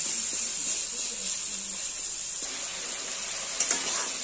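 Cumin powder fries in a pan, giving a soft, steady sizzle with a few faint stirring scrapes and a brief clink near the end, quiet and close with no talking.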